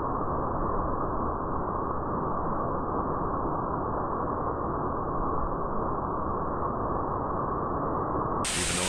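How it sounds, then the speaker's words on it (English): A water feature at Disney's Avatar tree runs as a steady, continuous rushing hiss, even and unbroken throughout, with no talking. "this is most definitely a water feature, not draining rainwater."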